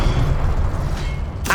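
Incendio fire spell cast in the video game Hogwarts Legacy, a loud sustained low rumbling blast with a sharper burst near the end, no voices.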